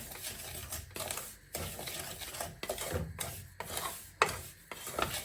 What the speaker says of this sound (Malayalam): ഇനിയിപ്പം വറുക്കാത്ത റവയാണ് ഇച്ചിരി നല്ലപോലെ വറുത്തെടുക്കണേ